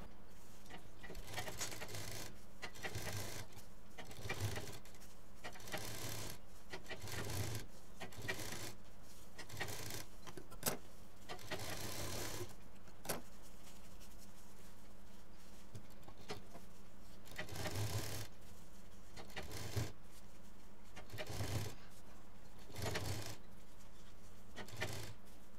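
A sewing machine stitching piping onto a lunch bag, running in repeated short bursts of whirring stitches with pauses between, close but quiet.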